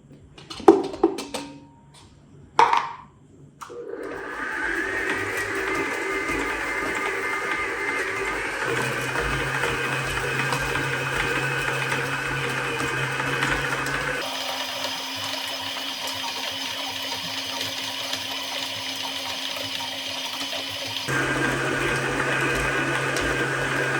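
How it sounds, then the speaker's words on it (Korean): A stand mixer kneads bread dough with cold butter at medium speed, a steady motor drone running close and continuous for a long stretch after a few sharp knocks at the start, with a shift in tone partway through. "이제 차가운 버터 넣고 10분 중속으로 반죽할게요."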